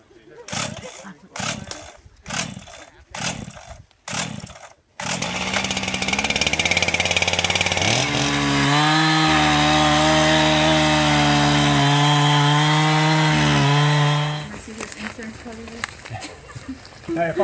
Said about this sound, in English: Sounds like a chainsaw.